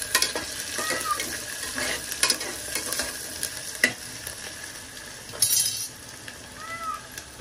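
Food sautéing on a low gas flame in a Konkani home kitchen, a continuous soft sizzle broken by scraping stirs and clinks of the spatula against the pan, moderately close and unvoiced.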